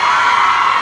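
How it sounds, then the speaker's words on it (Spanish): Women in a crowd at a live tropical music show shouting together on cue, a brief loud high-pitched collective scream. "Ay, ¡mujeres, un grito!"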